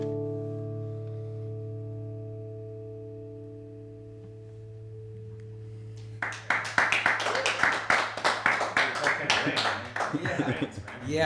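Live audience applause and clapping breaks out after a long ringing sustained acoustic guitar chord at an AmericanaFest acoustic session, the held tones fading for several seconds before a dense burst of clapping swells up and continues.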